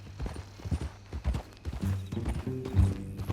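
Horse hooves clip-clop at a walking pace in Red Dead Redemption 2 with a brief whinny, moderately loud and close, alongside quiet game ambience.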